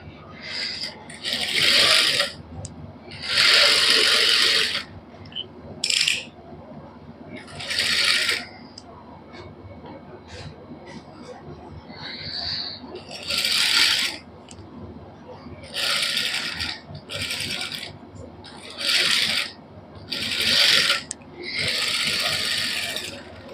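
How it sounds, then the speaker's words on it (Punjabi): Sewing machine stitching along the sides of a neckline on a cotton suit, repeated bursts of rapid whirring needle runs with short pauses, close and loud, with handling clicks between runs. "ਸਭ ਤੋਂ ਪਹਿਲਾਂ ਗਲੇ ਦੇ ਸਾਈਡਾਂ ਤੇ ਸਲਾਈ ਲਾ ਲਾਂਗੇ ਇਸ ਤਰ੍ਹਾਂ"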